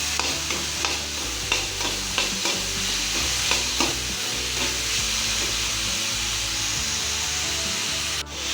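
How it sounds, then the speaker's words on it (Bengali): Capsicum frying in a pan for egg vegetable noodles, stirred with a rhythmic series of close, regular scraping strokes over a loud, continuous sizzle. "এটাও 1 মিনিট নাড়বো।"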